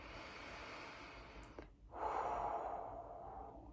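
Slow, deep breathing exercise in a mindful classroom lesson: a long soft exhale, a brief pause, then a fuller, louder airy breath, heard alone and up close.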